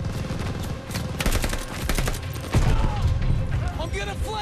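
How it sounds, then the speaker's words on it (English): Rapid bursts of machine gun fire rattle through a Call of Duty: Vanguard firefight, dense and continuous with a heavier thud midway and shouting voices over the shooting. "Watch that machine gun!"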